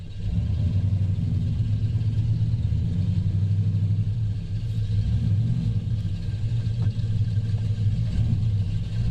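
A Jeep Grand Wagoneer that was seized after sitting for years, rolling under its own power with a steady low engine rumble and drivetrain drone throughout, close and loud, no talk.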